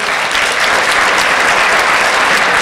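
Dense, steady applause from a music-hall theatre audience welcoming a performer, loud and continuous throughout with no clear voices.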